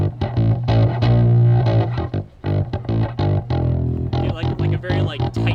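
Electric guitar played through a Jext Telez boost pedal for a tight, distorted tone, chords ringing with sustained, saturated harmonics in short bursts, loud and close with no voices.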